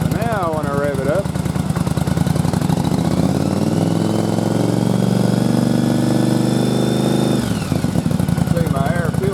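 A Yamaha Virago motorcycle engine mounted on a test rig and loaded by a pump, loud and close, idles then revs up to a sustained higher pitch before dropping back.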